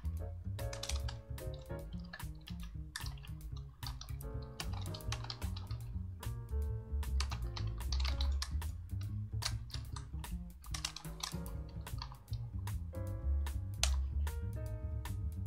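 Code being typed on a computer keyboard, with rapid close key clicks in uneven runs and short pauses throughout, over soft background music.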